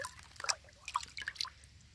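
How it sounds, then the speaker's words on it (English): Water runs and drips into a small tub during a survival tin challenge, with faint trickling and scattered dripping splashes, quiet and close, no talking. "Fill my little tub up with water."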